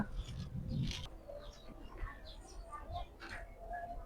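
A pair of racing pigeons, a male and a female, gives soft, low cooing nearby in a quiet setting, with faint rustling and light movement sounds around the calls.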